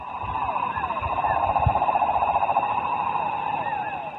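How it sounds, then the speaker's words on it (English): Tree frogs call in a tropical forest, a dense, pulsing chorus of rapid chirps and trills layered with steady high-pitched tones, continuous and fairly loud throughout. "tree frogs"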